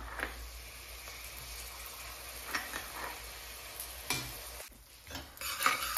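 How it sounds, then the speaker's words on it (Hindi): Spices frying in butter with yogurt while being stirred for butter paneer, a soft, fairly quiet sizzle beneath intermittent spoon scrapes and taps, close up, without voices. "थोड़ा सा इसको थोड़ा सा भून लूंगी"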